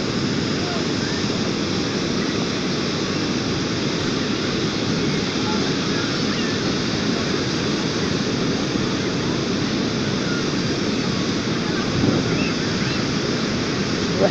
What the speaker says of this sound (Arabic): هاد اصوات امواج البحر كنبقى مستمره على هاد الطريقه هادي